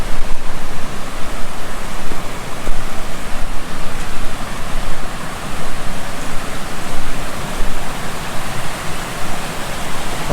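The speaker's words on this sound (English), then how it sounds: "But you can have a look at this waterfall." A waterfall in a town on a van-life trip roars as a steady, loud, broadband rush of falling water, continuous and dense with no voices over it.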